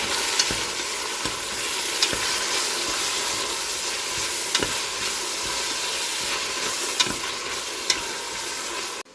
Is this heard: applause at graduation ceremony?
no